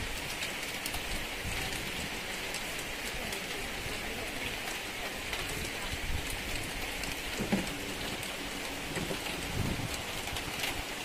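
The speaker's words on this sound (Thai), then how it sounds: "ฝนสาดแล้ว" Steady rain pours and splashes onto surfaces at an elephant camp café in Chiang Mai, a dense continuous hiss with a few louder drips near the end.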